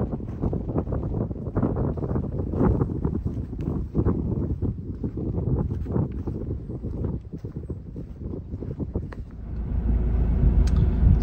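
Strong wind buffets a parked car out in a cattle paddock, heard from inside as a constant low roaring rumble with gusty surges, louder toward the end, with no speech.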